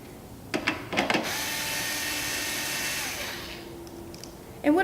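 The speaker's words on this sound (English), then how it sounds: "All right, grabbing my drill one more time." A power drill driving screws to mount a Booth Masters Mobile Mini plate, with a few short clicks and bursts before a steady whine that holds for about two seconds and winds down, then more clatter at the end.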